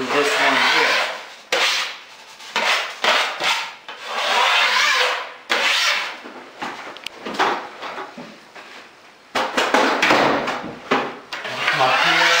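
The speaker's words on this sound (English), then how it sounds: "So that's going to be my sanding there." Repeated scraping strokes of sanding drywall joint compound on a ceiling, coarse and close, in bursts separated by brief pauses.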